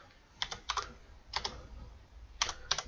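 Keys on a computer keyboard are tapped in short quick bursts to enter a file name, light and close-up clicks separated by brief pauses, with no voices.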